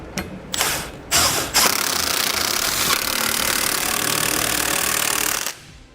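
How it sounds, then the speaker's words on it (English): Trailer hitch bolts on a 2008 Lexus RX 350 are run down with a 17mm socket on a power tool, heard as short loud mechanical bursts followed by a sustained, close rattling whir that cuts off abruptly. "we can tighten them down with a 17mm socket now"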